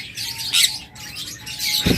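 Pet birds of a captive-bred variety kept for sale chirp and tweet in short bright bursts, several calls overlapping at moderate distance with no talking.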